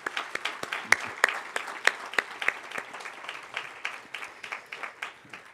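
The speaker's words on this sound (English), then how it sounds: "And it's time to applaud yourself." Graduates clap at a university commencement ceremony, a spread of distinct individual claps with an uneven rhythm, moderately distant and fairly soft, with no talking over it.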